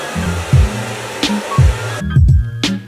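A hair dryer blows steadily and loudly while hair roots are brushed for volume, with the airflow briefly changing as the brush moves through the hair.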